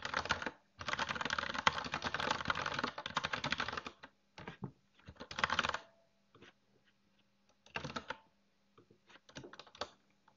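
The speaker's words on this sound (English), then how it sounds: "let's just type something short." Quick typing on a computer keyboard, with dense bursts of key clicks for about four seconds, then shorter scattered bursts separated by near silence. Nothing else can be heard.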